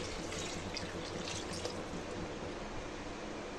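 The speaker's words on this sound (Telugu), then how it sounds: "అదే కప్పుతో 4 కప్పుల వాటర్ని యాడ్ చేసుకోవాలి" Water pours steadily into a pot of sago for payasam, a continuous splashing rush that holds an even level for a few seconds with no talking.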